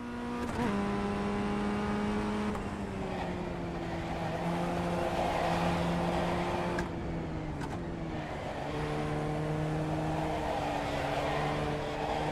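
Race car engine at Barber Motorsports Park in iRacing, a loud sustained drone that rises and falls with gear changes and throttle lifts through corners, continuous and close with no talk.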